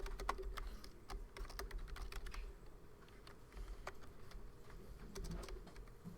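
Keys clatter on a computer keyboard in quick irregular runs of light taps, close but quiet, over a low room hum.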